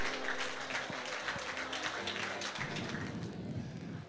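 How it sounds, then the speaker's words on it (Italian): Applause from an audience at a barista and latte art coffee show, a dense steady patter of many hands clapping that thins slightly toward the end. "Potrei rifare un applauso"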